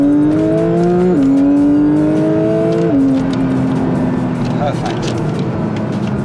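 A 2022 Porsche 992 GT3 accelerates hard through town, its loud, close engine wail climbing in pitch and dropping sharply at two quick upshifts before pulling on steadily.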